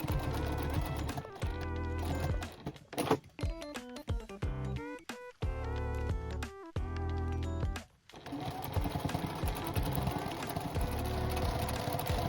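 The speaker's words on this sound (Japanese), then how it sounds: "約5ミリの間隔でミシンで縫いました。" A sewing machine stitches fabric for a tote bag, running in rapid bursts with brief pauses between seams, close and loud, its mechanical whir and needle clatter heard alone.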